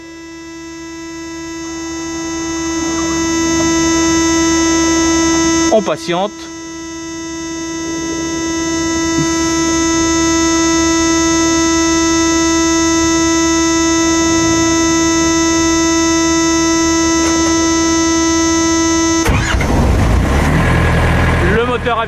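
A refrigeration unit's engine runs steadily at idle just after starting, a constant hum with a strong steady whine, briefly interrupted by clunks and handling noise, with a short spoken remark near the start.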